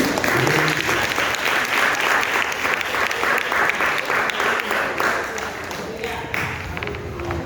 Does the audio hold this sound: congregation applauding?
yes